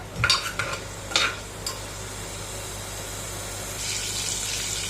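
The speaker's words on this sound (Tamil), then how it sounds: "கடுகு கடலப்பருப்பு போட்டுக்கோங்க நல்லா வந்து கடுகு பொறிஞ்சு வரட்டும்" Mustard seeds and chana dal splutter in hot oil for a brinjal gravy: a few sharp crackling pops and spoon knocks up front, then quieter sizzling that swells into a steady hiss near the end.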